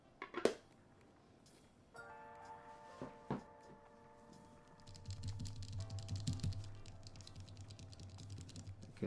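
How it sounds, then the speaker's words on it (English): Plastic keycaps pressed onto a TYL Volcano 660 gasket-mount mechanical keyboard, giving a few sharp close clicks and snaps spread over quiet gaps, with a steady hum in the background and a rumble joining later. "let's put some keycaps on"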